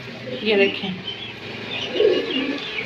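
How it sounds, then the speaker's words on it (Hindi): Pigeons cooing softly while lined up on their perch, with low murmuring coos rising twice over a steady bed of background birds, and someone talking over them throughout. "ये देखें जी माशाल्लाह से हमारे लकी कबूतर"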